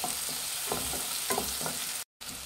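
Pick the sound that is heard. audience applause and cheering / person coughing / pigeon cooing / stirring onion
stirring onion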